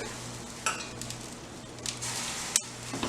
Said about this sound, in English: So I'm going to add a little bit more stock.